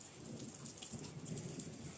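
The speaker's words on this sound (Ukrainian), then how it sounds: "Дощик крапає." Light rain drips and patters outdoors in the Carpathian mountains around Verkhovyna, a soft, irregular scatter of drops over a gentle wash of background noise, fairly faint and without talk.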